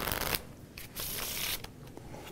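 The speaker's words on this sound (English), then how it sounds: "can you come and riffle shuffle these cards?" Riffle shuffle of a deck of playing cards, half face up and half face down, during a live magic show finale: short bursts of close, crisp fluttering card noise with brief pauses between them.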